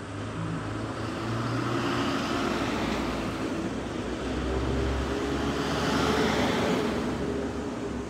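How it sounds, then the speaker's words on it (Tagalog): Cars passing on a city road in Japan, a continuous broad traffic rumble swelling as vehicles go by, with no voices. "Sige, dumaan pa kayong mga sasakyan hanggang sa gusto nyo."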